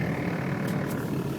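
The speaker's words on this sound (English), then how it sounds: "Blower motor's making some noise." A car heater blower motor whirs with a steady, droning hum, close and continuous inside the cabin during a February 2011 winter storm.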